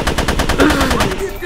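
Rapid automatic turret gunfire from the video game GRAV, a steady stream of loud shots with a faint voice underneath.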